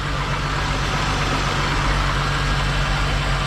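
Volkswagen Jetta wagon engine idling steadily after repair, a constant low hum with an even mechanical drone and no revving, close and unbroken throughout.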